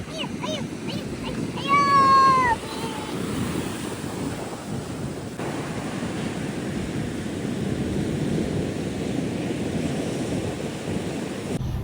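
Strong sea wind by the shore during rain, a steady roaring rush of wind and surf buffeting the microphone throughout, with a brief high animal cry near the start.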